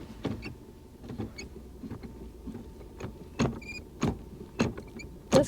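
A used 2012 Suzuki Swift Sport's gear shifter squeaks and clicks in short, sharp bursts as it is moved between gears inside the cabin, with no talking.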